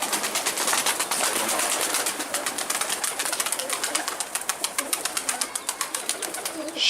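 Pigeons cooing in a loft setting, a steady run of soft repeated calls with faint rhythmic pulses and some background rustle, moderately near and continuous throughout.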